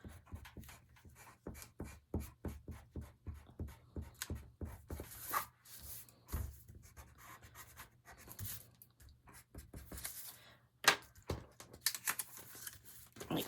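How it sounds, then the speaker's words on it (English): A pencil eraser rubs rapidly back and forth over craft paper cutouts for an explosion box, a quiet, close scrubbing in quick bursts with short pauses and occasional paper rustles. "I'm going to erase my lines because I didn't exactly cut on them."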